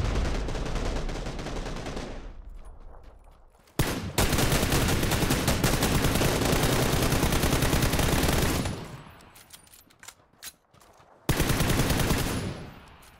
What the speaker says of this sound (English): he scared me, so I just kept shooting